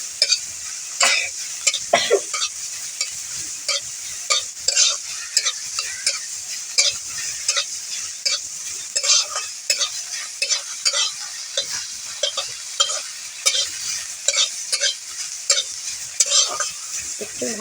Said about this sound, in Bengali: পেঁয়াজ পাতাটা একটু ভেজে নিলাম, একটু নুন হলুদ দিয়ে ভেজে নেব